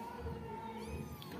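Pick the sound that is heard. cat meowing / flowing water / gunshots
cat meowing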